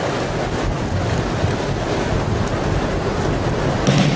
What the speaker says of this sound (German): Der Wind ist an diesem Morgen so stark, dass Reiten, Baden und Surfen außerhalb der geschützten Bucht zu gefährlich ist.